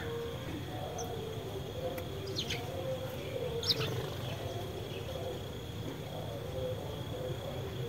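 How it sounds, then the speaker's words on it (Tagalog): A few faint, scattered bird chirps rise over a steady low rumble of outdoor background noise on a cold day at a potato farm. "Ang daming ibon dito sa kanila."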